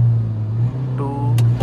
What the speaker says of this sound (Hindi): भाई दोनों गाड़ियों का बहुत बढ़िया लॉन्च हुआ भाई